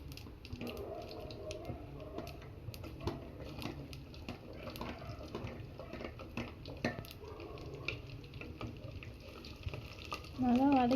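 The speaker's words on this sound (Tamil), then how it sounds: "நல்லா வதக்கி விடணும்." Garlic sautéing in a pan with cumin seeds for a fish curry, a steady soft frying crackle with stirring scrapes, and a louder burst at the very end.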